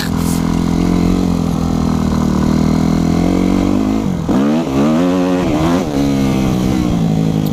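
Yamaha YZF 250 motorcycle engine revving hard during a wheelie, a loud, close, sustained buzzing roar held high, then dipping and surging back as the throttle is eased and reopened.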